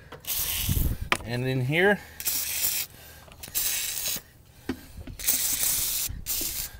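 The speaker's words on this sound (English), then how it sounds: "Let's spray on this little rubber grommet." WD-40 hisses in several short, close bursts onto a small rubber grommet on a Chevy 4.3 liter engine's fan clutch, with brief quiet gaps and a short spoken phrase between sprays.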